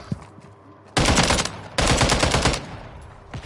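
Automatic gunfire in the Call of Duty video game on PS5: two loud sustained bursts, each roughly three-quarters of a second long, separated by a brief gap, close and dominant with no talk over them.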